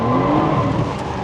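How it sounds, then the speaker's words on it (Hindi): A car drifts in donuts around a point, tire squeal and strained engine whine sounding loud and near, continuous through the short stretch. "ये डोनट्स हो गए एक के इर्द गिर्द।"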